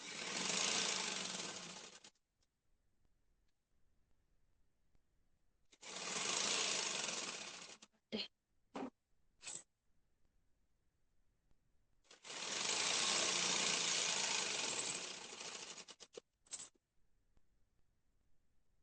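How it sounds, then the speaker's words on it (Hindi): A sewing machine stitches the side seam of a folded kurti in three long runs of rapid steady whirring, separated by quiet pauses and a few short stitching bursts, close and without talk. "दोनों तरफ से मोड़ते हुए हम जो है इसकी सिलाई लगा देंगे।"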